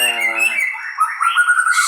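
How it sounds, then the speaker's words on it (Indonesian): An oriental magpie-robin (murai batu) songbird sings close and loud, running clear whistled notes and rising, sliding phrases together with no talk. "Burung murai batu memiliki suara merdu dan bulu ekor yang cantik."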